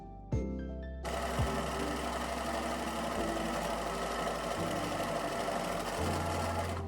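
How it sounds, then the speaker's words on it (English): Sewing machine stitching a sweater, starting after a brief click and then running in a steady close whir with slight speed changes throughout. "So I'm gonna sew this part next"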